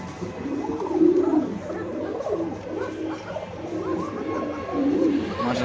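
Pigeons coo steadily at a pigeon farm, a close, continuous chorus of soft rolling coos from several birds overlapping, with faint background noise.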